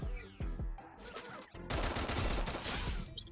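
Gunfire in the shooter game Free Fire: a few sharp shots early, then a denser burst of rapid automatic fire filling the latter half, fairly quiet overall.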